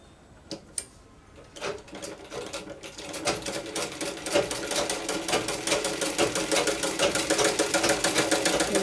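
A sewing machine stitches a baby's A-line frock, starting with scattered clicks and then settling into a fast, even mechanical chatter close by.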